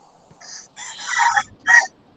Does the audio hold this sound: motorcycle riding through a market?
no